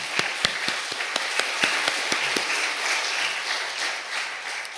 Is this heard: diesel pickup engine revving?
no